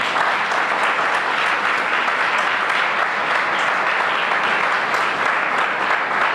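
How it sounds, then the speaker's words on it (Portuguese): Steady, dense applause from a church congregation, continuous and evenly loud throughout with no break or voice on top. "Você pode aplaudir o Senhor"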